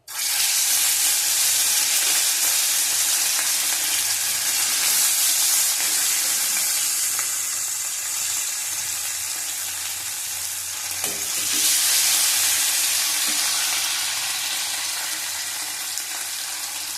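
Hot oil sizzling steadily in a kadai, readied for frying katla fish for curry; a loud, continuous broadband crackle that holds for the whole stretch with a slight dip midway, no voices over it.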